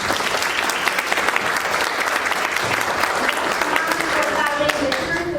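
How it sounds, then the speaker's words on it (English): An audience at a talk on financial exploitation and scams breaks into loud, sustained applause, dense clapping filling the room from start to finish. "Can we get a round of applause for them?"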